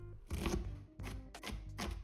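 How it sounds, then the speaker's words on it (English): Several broadband chopping bursts of a knife dicing an onion on a board, roughly four cuts with short pauses, fairly close, with no talking. "take one onion and dice it"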